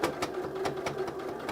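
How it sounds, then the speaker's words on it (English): A sewing machine stitches down fabric binding on a potholder, its fast needle chatter running steadily throughout the short stretch at close range with no voices. "we're gonna sew down till we hit that fold underneath"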